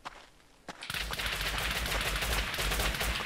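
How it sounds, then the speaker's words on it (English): Rapid bursts of gunfire from the video game Rust, a sustained volley of loud, close shots fired in quick succession after a brief quiet start, with no talking. "That was me shooting."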